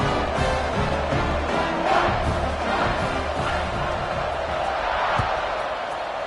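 A football stadium crowd cheers and roars in a dense, continuous wall of sound that holds steady loud for several seconds, with scattered shouts rising out of the mass.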